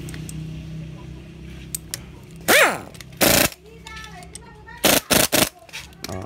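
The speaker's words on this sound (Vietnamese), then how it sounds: "bây giờ thì mình sẽ dùng là tô vít hơi để mình siết vào chặt lại" A pneumatic screwdriver tightens a part while an electronic fuel system is cleaned. The tool fires in several short, loud, hissing bursts, one alone and then three in quick succession, with a faint sliding whine between them and low background noise.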